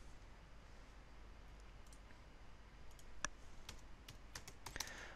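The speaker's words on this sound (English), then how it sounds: "I'll just type these in quickly." Light typing on a computer keyboard sounds close and quiet, with scattered clicks growing busier toward the end over a steady low hum.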